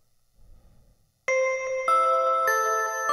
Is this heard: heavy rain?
no